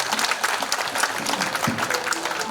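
An audience applauds after a lecture at a Korean society's general assembly held at Byeongam Seowon, a brief burst of dense, close clapping at full strength with a faint low voice briefly under it.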